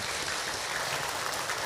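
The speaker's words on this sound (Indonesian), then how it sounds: "Tepuk tangan Ibu untuk Hilman." Audience applause at an Islamic religious lecture, a soft, even wash of many hands clapping, faint and steady for a brief moment with no speech over it.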